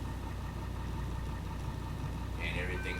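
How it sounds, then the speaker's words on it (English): Truck engine idling steadily after starting in the video game Everywhere USA, a low continuous rumble with a brief higher mechanical whine near the end. "Now I can start the truck up."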